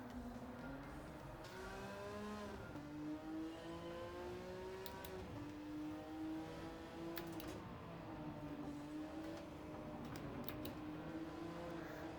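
A Porsche 911 GT1 race car engine in Gran Turismo, racing in a Porsche Cup event at Kyoto Driving Park, drones steadily near and loud, its pitch rising and falling through gear changes and throttle shifts.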